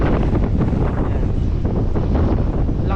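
Strong wind buffeting the microphone outdoors at Bantay Abot Cave on the coast, a loud, continuous roaring rumble with gusty swells and no pauses.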